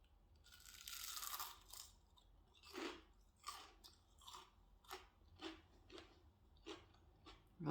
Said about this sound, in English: Really good crunch.